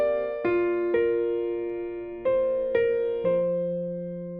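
A slow, rubato piano phrase: six separate sustained notes and chords, each struck and left to ring and fade before the next, at an unhurried, uneven pace.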